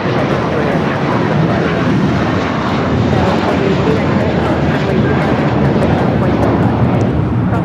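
American Airlines A321 taking off at LAX for Dallas-Fort Worth, a loud sustained jet engine roar that fills the whole stretch evenly, with voices over it.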